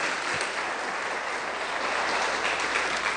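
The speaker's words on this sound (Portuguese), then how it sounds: "dê uma forte salva de palmas para o Senhor Jesus." Steady applause from a church congregation at a Friday worship service, many hands clapping together in a dense, continuous wash that holds for several seconds.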